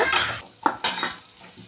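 Capsicum fry being stirred in a pan, with a utensil scraping and clinking against the metal in a few quick strokes over a soft sizzle, close up and with no voices.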